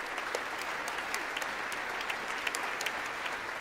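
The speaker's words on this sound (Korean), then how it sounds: "굉장히 많은 박수를 받았는데" Sustained applause from a large audience in the chamber of the US Congress during the Ukrainian president's address, a dense, steady wash of clapping with a few sharper claps standing out, no talking over it.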